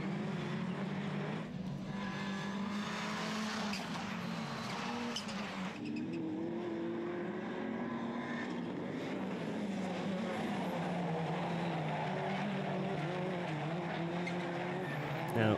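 Rallycross race cars, including a VW Golf 4, roar through a race at Chateauroux, France, their engines droning and revving continuously from a moderate distance, with faint commentary underneath.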